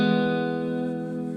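Electric guitar phrase from an arrangement, a sustained chord-like note with a slide up, rich in overtones and coloured by effects and reverb, ringing alone and slowly fading.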